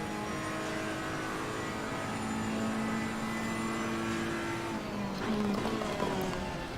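BMW race car in the Assetto Corsa Competizione racing game at the Nürburgring, its engine droning steadily with shifting tonal whine, rising slightly in intensity near the end, heard without talk.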